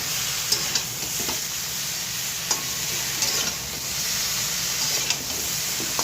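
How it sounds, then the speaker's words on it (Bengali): Cauliflower fries in a pan with cumin powder and grated ginger, giving a steady bright sizzle throughout. Light scrapes and taps of stirring come at intervals, and no voices are heard. "একটু ভাজা ভাজা করবো ফুলকপিটাকে।"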